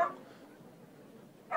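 A dog in the video game Yakuza Ishin barks in two short bursts at the start and end, fairly close, with quiet game ambience between them.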